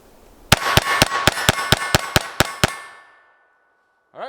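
A Sig P322 pistol fires ten rapid shots in an even rhythm, sharp ringing cracks about a quarter second apart, each with a short metallic ring, followed by fading echo and silence.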